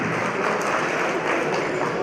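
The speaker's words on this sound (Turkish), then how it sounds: "Alkış yapan elleriniz sıcak görünsün." Guests at a business association iftar dinner applaud as a steady, dense wash of clapping that holds even and fairly loud across the moment.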